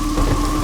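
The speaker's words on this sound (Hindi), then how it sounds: "अरे रे, इतनी बारिश क्यों हो रही है?" Heavy rain pours in a steady, dense roar with a low rumble of thunder underneath, loud and continuous through the short stretch.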